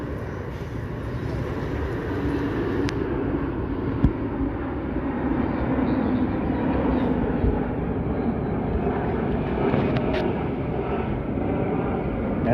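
Two large aircraft, including a KC-135 tanker, fly past low at about 1,000 feet and over 300 mph, a loud sustained broadband engine roar at an airshow.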